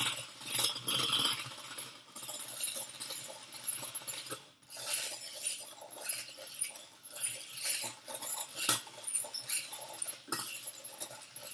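A hand beater whisks eggs and vinegar in a bowl, giving a steady run of close, rapid clinking and scraping strokes with brief pauses.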